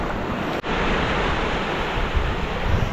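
A river pours into the sea at Burdeos, Polillo in Quezon province, a loud, steady wash of rushing water and surf with wind buffeting the microphone, briefly cut off for a split second.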